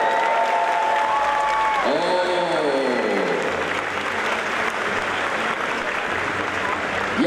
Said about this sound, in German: Leute, großen Applaus für Johannes hier für Thüringen.